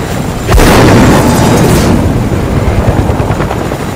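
A loud, close helicopter in the Fortnite video game roars in with a sudden boom-like onset, then keeps up a thick, rumbling rotor drone that fades slightly, with no speech.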